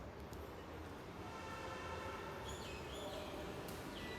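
Delhi Metro train in motion, a steady broadband rumble and rush with faint high squeals and tones drifting in near the end, continuous and moderately loud.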